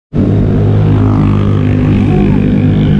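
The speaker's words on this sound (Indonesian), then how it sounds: "itu suaranya motor-motor eh, X-Max tadi luar biasa mantap" Yamaha XMAX scooters roar past loudly and close, a dense continuous engine drone starting abruptly and holding steady throughout, heard during a long-distance road cycling ride.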